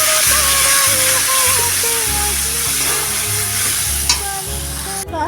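Turmeric, chilli powder and salt are stirred in a hot pan, with a loud continuous sizzle and repeated rhythmic scraping strokes of the spoon, and one sharp clink near the end.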